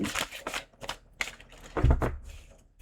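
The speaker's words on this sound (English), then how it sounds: "the cards didn't want to shuffle" Cards riffle and flutter in a few short, crisp bursts, close and fairly quiet, with soft handling noises between.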